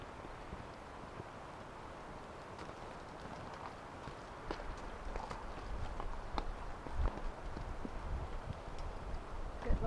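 A horse walking on a mountain trail ride, hooves striking the ground in a steady, soft clip-clop with rustling and wind around it, fairly close and continuous.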